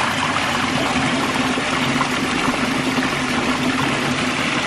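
Water rushes steadily through a micro hydro intake as it washes out silt, a constant, loud wash with no breaks and no talking.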